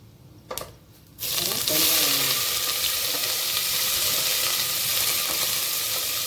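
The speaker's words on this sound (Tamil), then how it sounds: "எண்ணெய் காஞ்சதுக்கப்புறம் கொஞ்சம் பட்டை, ஓரளவு பொரிஞ்சால் தான் அதில் வாசம் வரும்." Cinnamon bark hits hot oil for tomato rice: after a quiet start with a couple of clicks, a loud, dense sizzle bursts out and keeps hissing evenly up close.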